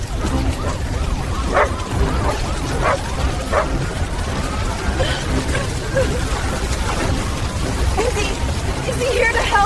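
A dog barks in short yips and lets out whimpers, scattered over steady outdoor background noise, with people talking throughout.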